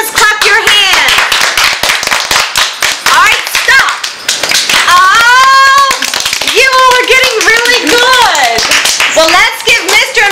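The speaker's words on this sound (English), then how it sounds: "Simon Says, clap your hands." Children clap their hands during a Simon Says game at a Christmas children's corner show, a rapid stream of sharp claps under constant kids' chatter and singing voices, loud and close.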